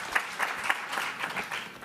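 Audience applause at a regional sustainable energy conference session, a steady patter of many hands clapping at moderate level, with a few sharper accents, continuing evenly without voices over it.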